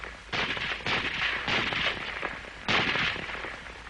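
An M1 Garand semi-automatic rifle fires a rapid series of about five sharp, loud shots at irregular spacing, each crack trailed by a brief echo.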